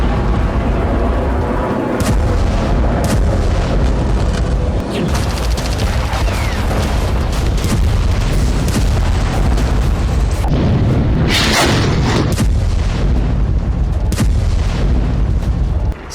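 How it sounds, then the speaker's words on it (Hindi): Heavy bombardment in Gaza, with deep booms and rumbling blasts rolling continuously and loudly, sharper bursts near two and twelve seconds, no voices. "सात अक्टूबर के बाद इजरायल ने गाजा पर जो बमबारी शुरू की"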